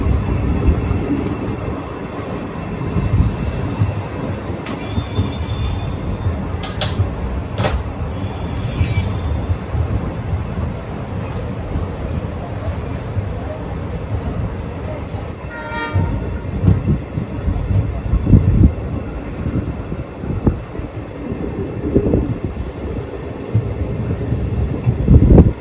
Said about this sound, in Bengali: ট্রেন তো ছাড়ার পরেই ভালো স্পিড তুলে দিয়েছে